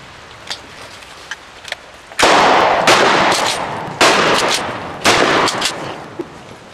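Shotgun blasts at an outdoor gun range: three loud, booming shots spaced about a second apart, each with a long echoing tail, after a few faint distant pops.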